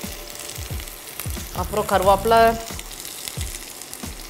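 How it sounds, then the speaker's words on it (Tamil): Shallots and green chillies sauté in a hot pan with a steady, lively sizzle, rising as they are stirred, while a person speaks briefly over the frying. "ஸோ இது கொஞ்சம் லேசாக வதங்குது"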